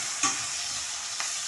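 Tomatoes, green chillies and curry leaves are stirred while frying in a pan, giving a steady close sizzle with a couple of brief scraping stirs.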